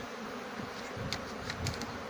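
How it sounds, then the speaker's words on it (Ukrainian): A dense, steady buzzing of many honeybees in flight, close by, with a few individual bees droning a little louder as they pass. "Але ж дуже багато бджоли і в польоті."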